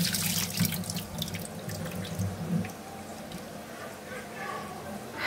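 Running tap water splashes steadily into a sink as cut fish pieces, already salted, are rinsed by hand, with soft squishing and dripping through the wash.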